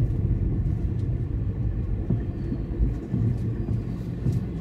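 Steady morning traffic on a Bangalore connecting road near Nagavarapalya, office-goers' cars and engines blending into a continuous low rumble that swells and eases slightly, with no clear voices.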